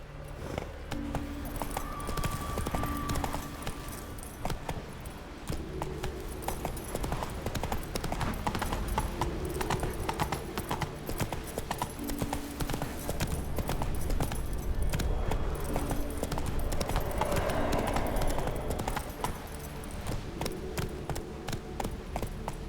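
Roach the horse trots with steady, close clip-clop hoofbeats in The Witcher 3, rhythmic and continuous, with faint jangling tack and ambient game sounds underneath.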